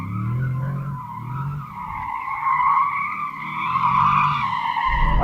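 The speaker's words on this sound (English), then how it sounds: "Let's see how easy this car is to slide with the stability off." A performance SUV, a Porsche Cayenne Turbo GT or Aston Martin DBX 707 with stability control off, slides with loud, sustained tyre squeal that rises and wavers over several seconds above a low engine rumble.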